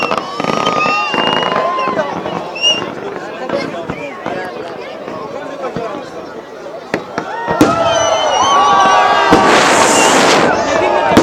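New Year fireworks bursting in a loud series of cracks and booms, with a long crackling shower near the end, while people cheer and talk excitedly throughout.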